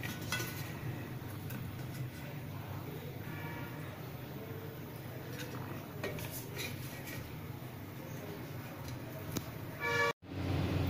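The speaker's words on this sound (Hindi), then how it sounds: "इस तरह से हम सब काट लेंगे।" A knife cuts a cashew and watermelon sweet into pieces, giving light clicks and taps against a plate or board over a steady background hiss.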